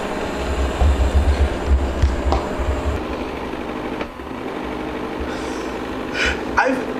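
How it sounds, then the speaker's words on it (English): A Shark IQ robot vacuum runs with a steady mechanical whir and low rumbling motor drone as it cleans a room, with a few brief bumps and shifts in tone along the way. "it goes in straight lines, up and down, zigzagging until it finishes cleaning a room"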